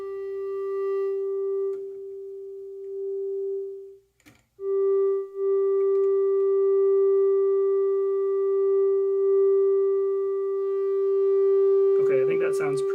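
A Moog Grandmother synthesizer's filter, tuned into self-oscillation, gives a pure steady sine tone that holds for several seconds, drops out briefly, returns, and ends with a short burst of other noise.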